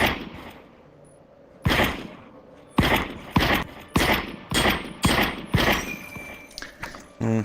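Repeated gunfire in The Light Brigade, a World War II shooter: a quiet opening, then a run of sharp, loud shots in an uneven rhythm, several fired close together, with faint mechanical clatter between them.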